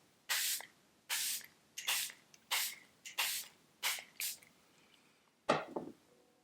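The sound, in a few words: setting spray misting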